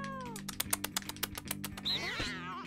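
A cartoonish cat in the video game No More Heroes 2 gives a short meow near the end, after a run of rapid clicky taps like keyboard typing.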